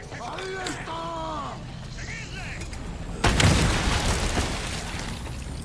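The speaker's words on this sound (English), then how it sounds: "A grenade." Grenade blast in Resident Evil 4 Remake, a single loud explosion past the midpoint with a rumbling tail, after someone talks briefly.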